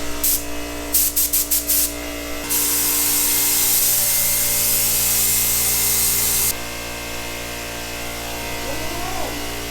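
A paint spray gun laying down the first coat on a Corvair rally car: short trigger bursts, then a steady loud hissing spray for several seconds, followed by a quieter hum of equipment.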